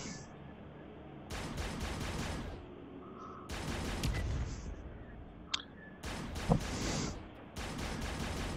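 A zappy bolt weapon fires in the VR game Poly Runner in several separate bursts of crackling shots, each lasting about a second with pauses between, moderately loud and close.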